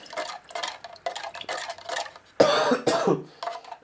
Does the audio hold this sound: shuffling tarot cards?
no